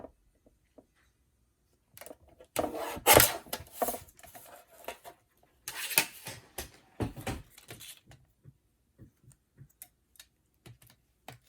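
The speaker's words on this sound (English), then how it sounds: "Just using my little Tim Holtz trimmer here." A Tim Holtz paper trimmer slicing paper for a stamped card, heard as a few short scraping, clicking bursts through the middle of the clip. Quiet taps come before and after, and nobody speaks.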